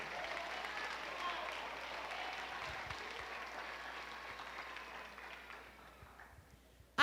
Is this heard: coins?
no